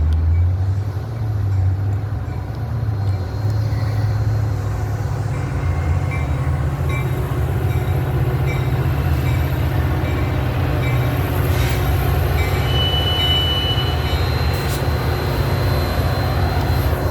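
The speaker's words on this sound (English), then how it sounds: "train number 643 to McHenry is now arriving" A Metra commuter train arriving at a station on the Union Pacific Northwest line, with a loud, steady low rumble of engine and rolling wagons close by, plus faint high squeals and tones toward the end.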